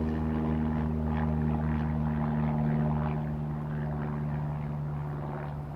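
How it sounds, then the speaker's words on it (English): A propeller airplane passes overhead with a steady, droning engine hum that holds loud for a few seconds and then slowly fades, with no talk. "I have to excuse the plane."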